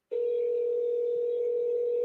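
Telephone dial tone holds a single steady, clear hum for about two seconds while a call is being placed, alone with no talking.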